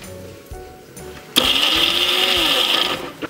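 A kitchen mixer grinder whirs into action, grinding masala spices with cumin for Coorg pork curry; a sudden loud, high-pitched motor whine runs steadily for about two seconds and then winds down.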